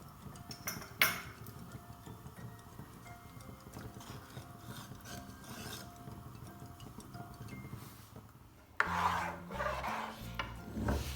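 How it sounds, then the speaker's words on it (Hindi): A spoon stirs and scrapes through a pot of chicken hot and sour soup with vegetables, thickened with cornflour, making a continuous close rasping, rubbing sound that grows louder and fuller near the end, with no talking. "और साथ में इसको चम्मच को हिलाती भी रही ताकि लम्स ना बने।"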